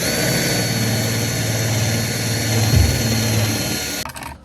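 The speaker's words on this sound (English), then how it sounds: "we're just having to use a drill and some bits to try and get them out" A drill whirs steadily while boring out rounded bolts on the fuel sender of a classic Rover SD1, a close continuous motor tone that dips briefly under load and then cuts off near the end.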